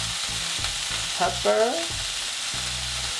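A beef burger patty for loco moco fries in a pan just after being flipped, giving off a continuous close sizzle. A voice briefly speaks a word over it.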